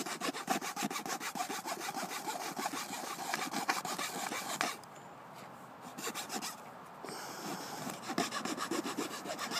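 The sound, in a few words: saw cutting wood to make fire tinder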